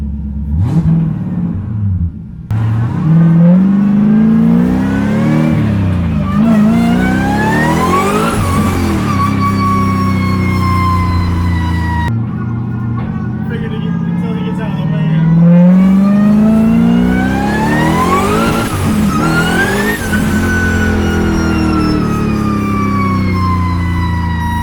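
A 75mm turbo LS-swapped BMW E36 drift car revs hard up and down in long sweeping pulls, loud and close, its screaming engine note rising and falling repeatedly with turbo whine over the top.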